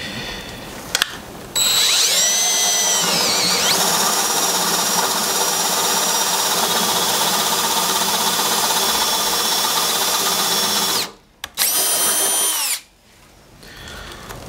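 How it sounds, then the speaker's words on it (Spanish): A power drill with a spade bit bores into wood in one long, loud, steady whine lasting about ten seconds. A brief second burst follows after a short pause. "Primero voy a hacer una prueba con esta broca de paleta"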